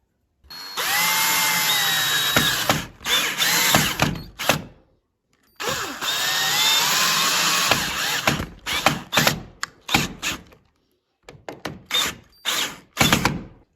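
Power drill driving screws to fit a door strike plate: two long steady whirring runs, each ending in a stop, then a string of short bursts and clicks.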